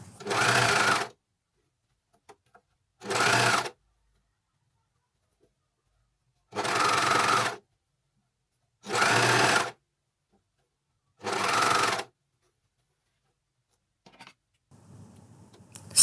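A Juki MO 6714 D overlocker sewing machine stitches a garment seam in five separate bursts of about a second each, a close, fast mechanical whir broken by silent pauses, with faint rustling near the end.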